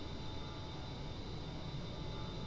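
Jet engines of an A-10C roar at full throttle on the takeoff roll in the DCS World flight simulator, a steady unbroken wash of noise with no voices.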